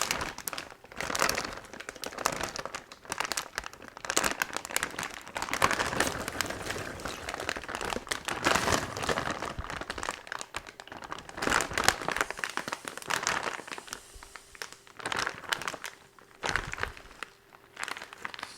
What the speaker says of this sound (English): Now we're just going to zip up the bag.